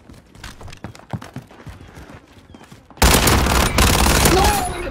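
Rapid video-game gunfire from an R9 in a competitive round: a sparse burst of shots gives way to loud, dense, sustained firing in the second half, with voices in the background.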